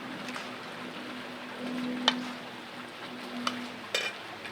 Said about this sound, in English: And now just stir it in.